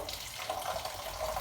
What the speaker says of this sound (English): as I'm adding that water, I'm putting my quantity of ogbono, okra into consideration